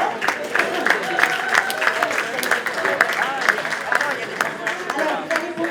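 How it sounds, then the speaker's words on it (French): An audience at an evening event claps loudly in a steady, sustained burst of applause filling the room, with a few voices audible among the clapping. "On applaudit bien fort."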